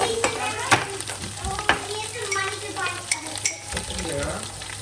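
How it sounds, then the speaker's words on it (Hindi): Fenugreek seeds sizzle in hot oil with ginger and garlic while being cooked for bhajis, a close, busy crackle with spatula scrapes and clinks against the pan. "तो ये डाले मेथरे"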